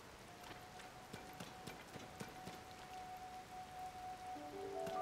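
Rain falls in the game Tears of the Kingdom, a soft steady patter with scattered drops throughout, quiet and continuous, while faint musical tones drift underneath.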